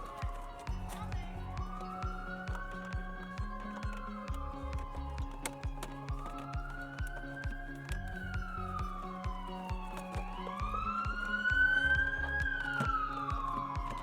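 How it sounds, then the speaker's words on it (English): A wailing police siren from a nearby police station rises and falls repeatedly in the distance, under a rhythmic thumping beat and faint voices. "Don't mind the sirens in the background."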